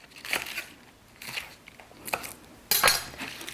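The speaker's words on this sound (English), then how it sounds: "I cut the green part, about 1 inch long." A knife slices through green onion stalks on a cutting board in a home kitchen, giving four separate crisp crunching cuts, close and fairly loud, with quiet pauses between them.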